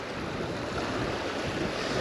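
The River Ayr rushes steadily near Muirkirk where the Greenock Water joins it, giving a continuous broadband wash of flowing water mixed with some wind buffeting, with no voices.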